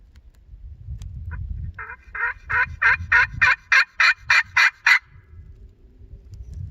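A wild turkey gobbles outdoors during a turkey hunt: a rapid run of about ten loud, rattling gobble pulses that speed up and swell, then stop abruptly, over a low rumbling background.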